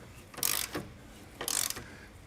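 A hand ratchet clicks in two short bursts, tightening rear suspension bolts on an EM1 Honda Civic Si, close and fairly faint with quiet pauses between strokes.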